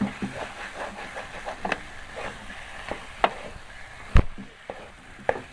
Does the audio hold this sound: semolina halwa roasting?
yes